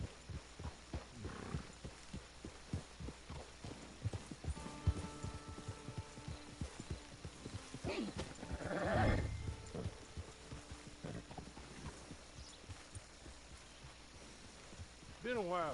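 Horse hooves clip-clop in Red Dead Redemption 2, a rapid run of close, sharp hoofbeats that briefly drops away midway, while a horse whinnies and voices talk over the middle stretch.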